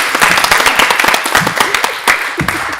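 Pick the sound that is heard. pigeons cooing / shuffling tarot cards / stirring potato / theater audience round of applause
theater audience round of applause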